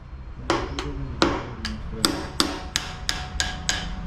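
Heavy blows from a large hammer against a wall during a snake rescue, about a dozen sharp, loud impacts in an uneven rhythm, each ringing briefly, close by with no talk over them.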